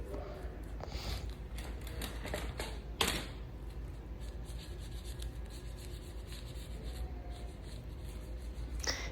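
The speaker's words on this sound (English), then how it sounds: "You use a marker to get your markings in so you know exactly where to cut." A marker draws markings on a tape template for a custom topper, making faint, close squeaks and scratchy rubbing strokes with a few sharper taps, all quiet.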